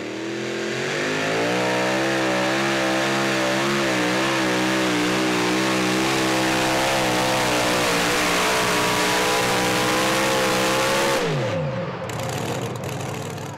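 The Taz Toy pulling truck, an unlimited super stock, roars with a loud sustained engine that climbs in pitch under strain for over ten seconds before dropping off abruptly.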